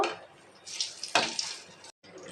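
Vada batter frying for curd vada in hot oil in a kadai, a steady bubbling sizzle that swells in a few louder bursts, then cuts out briefly before resuming, with no talking.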